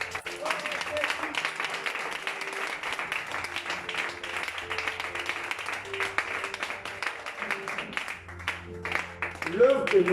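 A church congregation at a French-language worship service applauds the Lord with sustained clapping and cheering from a crowd, steady throughout and rising near the end, with voices calling out over it.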